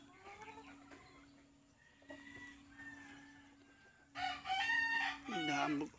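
A rooster that drinks a lot of water gives soft clucks and calls, then crows loudly and close twice in a row near the end, over quiet farmyard background.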